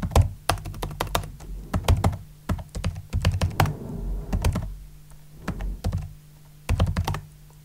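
Computer keyboard typed on to enter a password on an Ubuntu server, a close run of quick clacking keystrokes in bursts with short pauses, no talking.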